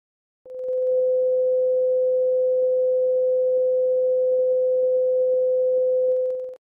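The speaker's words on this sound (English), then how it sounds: "Now let's listen to a tuning fork with a 510 Hz frequency." A single pure 510 Hz tuning-fork tone sounds steadily for about six seconds, clean and unwavering, then cuts off.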